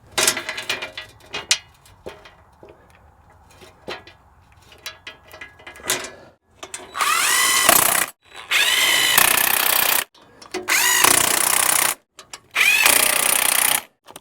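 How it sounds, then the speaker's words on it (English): Battery-powered grease gun running in several bursts of a loud, steady motor whine during a CAT 313 excavator service, each burst lasting one to two seconds, preceded by clicks and handling noises. "every time I use one of these tools like this, a battery powered tool, especially the grease gun"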